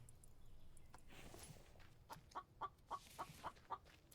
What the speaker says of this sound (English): I hear a chicken somewhere.